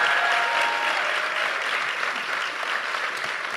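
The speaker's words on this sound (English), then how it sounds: "Can we give a round of applause to our wonderful panel?" An audience applauds a film festival panel with steady, dense clapping from a sizable crowd, moderately loud and sustained for a few seconds before easing slightly.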